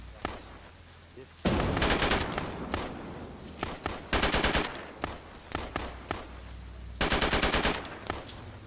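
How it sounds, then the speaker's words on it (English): Bursts of machine-gun fire and rapid gunshots ring out in several loud volleys, with single shots scattered between them, heard from some distance outdoors. "They're just shooting them and then shooting them."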